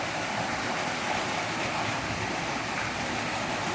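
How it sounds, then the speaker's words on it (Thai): Steady rushing water from a waterfall water feature in a house restroom, a dense unbroken hiss, constant in level with no talking. "โอ้มีเสียงน้ำตกด้วยห้องน้ำนะฮะ"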